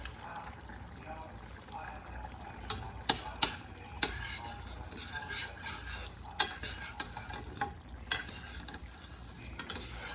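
Snow peas being stirred in a pan while cooking, with scattered clinks of a utensil and a soft sizzle beneath, the sharp taps irregular and fairly close.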